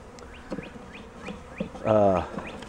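Honeybees from a package buzz faintly around a hive being installed, with a few soft passes and one louder, closer buzz drifting by near the end.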